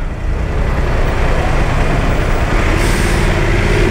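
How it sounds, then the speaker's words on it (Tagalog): Heavy trucks roar past at close range in dense night traffic, a loud continuous rumble with a brief hiss of air brakes near the end, heard from a rider on a Voge 900DSX motorcycle. "Grabe yung mga truck, wala nang iniwan."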